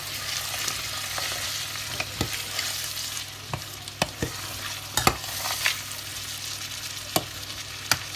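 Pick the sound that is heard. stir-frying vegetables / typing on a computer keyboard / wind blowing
stir-frying vegetables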